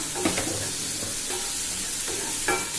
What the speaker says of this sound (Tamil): போட்டு நல்லா வதக்கிக்கிட்டே இருக்குங்க.